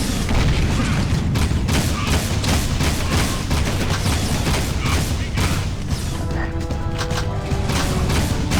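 Boomstick gun firing in the Jak II video game: a relentless barrage of loud blasts and booming shots overlapping with explosions and mechanical clatter, close and continuous throughout.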